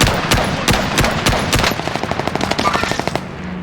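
Gunfire from the M1 Garand rifle in the World War II shooter Call of Duty: WWII: several sharp, loud shots in rapid bursts, followed by a denser run of quicker reports. There is no talking.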